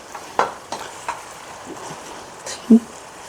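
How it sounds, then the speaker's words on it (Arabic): Onion frying in a pan as part of a chicken musakhan dish, with a steady sizzle and a few clinks and stirring knocks, and no talking. "هلا بما تقلى البصله"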